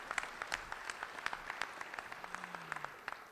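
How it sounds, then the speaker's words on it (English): Applause from a breakfast fundraiser audience in a hall, scattered claps at moderate distance, fairly faint and steady, with a brief low tone near the end. "Give Leah a round of applause"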